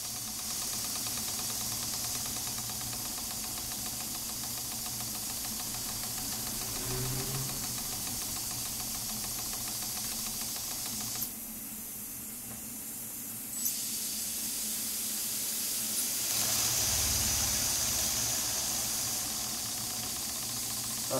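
A Stuart D10 model steam engine fitted with new reversing gear runs on steam at 3 bar with a steady, close hiss, with brief shifts in tone partway through and no voices.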